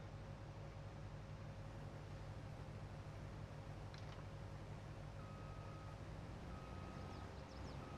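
A truck in Farming Simulator 22 idles with a low engine drone while a few faint reversing beeps sound near the end, quiet and steady, with no talking.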